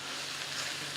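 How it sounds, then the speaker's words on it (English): Smoked paprika chicken rice in a skillet sizzles steadily, with a soft, close frying hiss that lasts for a second while it is stirred, and no talking. "Now, I want to come in, I'm just giving that a stir."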